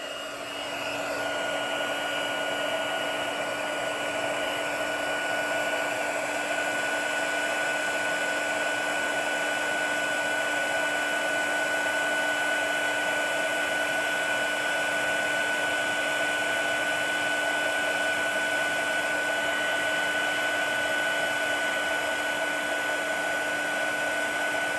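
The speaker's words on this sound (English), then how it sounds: "let's heat this with our heat tool" A heat embossing tool blows hot air in a steady, loud, unbroken whine and hiss for the whole stretch, with no talking over it.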